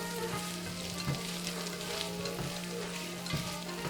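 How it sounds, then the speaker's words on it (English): Already-cooked chicken and shrimp sizzling steadily in a pan for a chicken and shrimp Alfredo, a constant close hiss with a low hum beneath and a few soft scrapes of stirring. "We're just basically heating this meat up."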